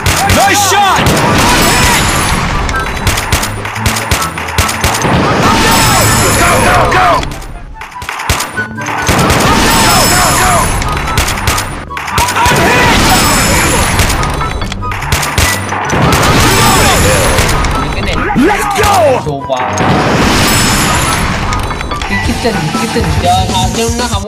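Rapid bursts of gunfire and explosions from Free Fire, loud and near, with brief pauses between volleys.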